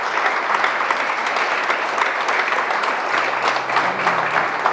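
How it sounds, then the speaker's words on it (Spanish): A church congregation applauding, a dense, steady wash of many hands clapping together, loud and continuous without a break, with a faint voice underneath. "let's go ahead and give applause to the Lord"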